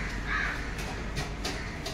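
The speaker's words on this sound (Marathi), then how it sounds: "कावळा आलेला" A crow caws a few times over steady low background noise, the calls fairly clear and spaced apart.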